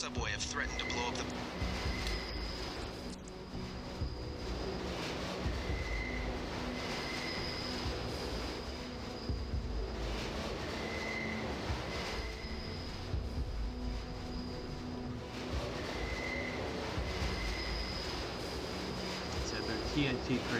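A subway train in the video game Deus Ex rumbles and rattles on through a long stretch, with repeated tonal whines and squeals, while a person talks over it.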